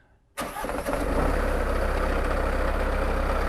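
A Kubota 2203 diesel in a Bobcat 763 skid steer cranks and catches after a brief quiet start, then settles into a steady, loud, close-up low idle with a constant rumbling drone.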